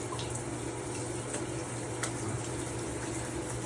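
A shower running steadily in a hotel room, a constant broadband hiss of spraying water with no voices present.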